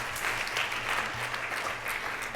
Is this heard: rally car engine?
no